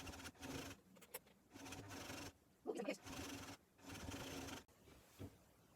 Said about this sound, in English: I'm going to run it through the sewing machine.